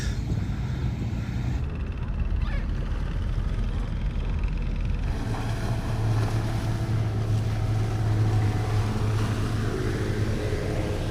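A motorboat engine drones steadily off Ko Lanta, Thailand, over wind buffeting the microphone and water noise, the motor hum holding low and constant, fairly close.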